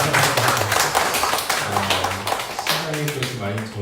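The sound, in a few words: congregation applause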